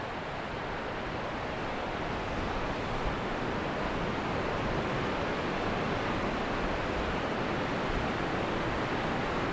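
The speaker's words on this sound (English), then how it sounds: "I'm still following this amazing river." A river on the Annapurna Circuit in Nepal rushes in a steady, loud, broadband roar of churning water, continuous and unbroken throughout with no voices.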